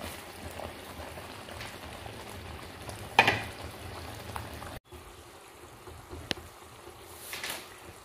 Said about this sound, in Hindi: मसाले डाल के और हमने भून लेना है इसको। जब तक कि ये घी ना छोड़ दे तो तब तक हम इसको भूनेंगे।